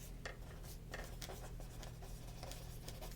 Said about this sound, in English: let me just write down